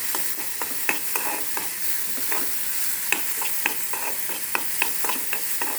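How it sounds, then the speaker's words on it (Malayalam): A large onion sautéing in a pan for a Kannur-style egg thoran, with a steady sizzle broken by frequent quick scraping stirs from a spatula, close and alone. "ഒരു വലിയൊരു ഉള്ളി എടുത്ത് അത് നന്നായിട്ടൊന്ന് വഴറ്റുന്നുണ്ട്"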